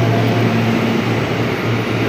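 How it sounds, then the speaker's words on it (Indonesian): A KRL electric commuter train runs on the tracks below a station platform, a loud, continuous rumbling roar with a steady low hum and no voices. "Ini kebetulan di bawah gua ada KRL yang menuju"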